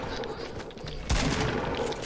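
A video game firefight: a burst of rapid gunfire cracks in loudly midway through, layered over a dense background of game noise.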